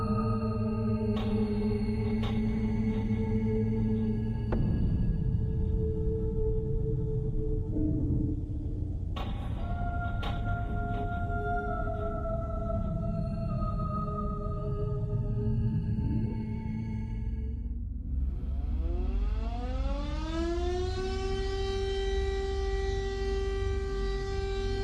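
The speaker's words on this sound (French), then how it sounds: "à midi pile, la sirène hurle." A French civil defense alarm siren sounds during its monthly noon test, a loud sustained wail that holds steady, drops and then rises again in pitch, heard alone over a low rumble.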